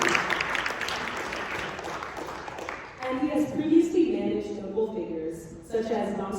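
Short audience applause at a Harvard Law panel, a brief burst of clapping lasting about three seconds before a speaker continues talking.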